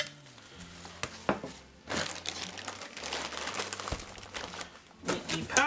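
Plastic wrap crinkling as the packaging of a Walmart drafting chair is pulled open, with sharp close crackles and rustles in irregular bursts and a low hum underneath.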